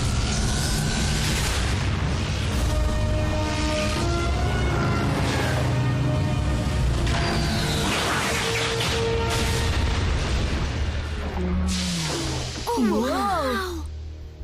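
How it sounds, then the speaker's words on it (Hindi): A long, rumbling cartoon explosion in Transformers Prime with booming echoes rolls on for several seconds, followed by whooshing and warbling effects. "वो धमाका किसने किया?"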